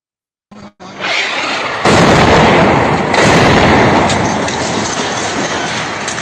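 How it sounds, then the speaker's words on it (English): Israeli airstrikes hitting the crowded Tufah neighborhood of Gaza City, heard as a sudden loud blast, then heavy rumbling roar with a second surge of explosive noise that slowly trails off. "Also in Gaza City, Israeli airstrikes bombed the crowded Tufah neighborhood on Monday."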